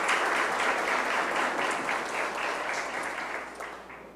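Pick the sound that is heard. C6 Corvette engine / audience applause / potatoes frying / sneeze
audience applause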